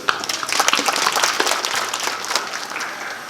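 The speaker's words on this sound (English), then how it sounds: "So let us all give him a loud" An audience at a school silver jubilee gives a loud round of applause, many hands clapping densely and steadily from start to finish.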